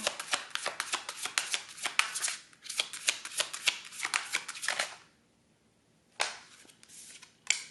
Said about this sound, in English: So we're going to pull tarot cards again to take a look at positive changes.